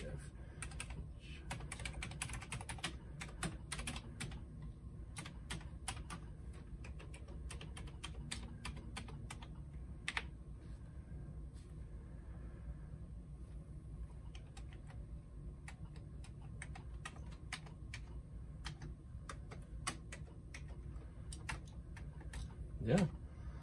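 Typing on a repaired Atari 65XE computer keyboard, a string of crisp close key clicks, now quick runs and now spaced single presses, with a few low spoken words in between.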